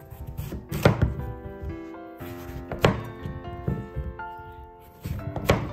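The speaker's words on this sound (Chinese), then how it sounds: "把南瓜切成小块" A kitchen knife chops pumpkin into small pieces on a cutting board, making solid, close thunks in uneven bursts with short pauses between them.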